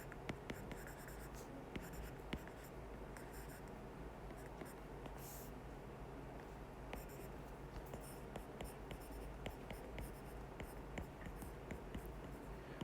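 Marker or chalk strokes scrape and tap across a board during a maths lesson on differentiability, a steady run of quiet scratching with sharp little taps and no voices.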